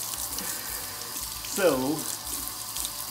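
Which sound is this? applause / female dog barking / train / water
water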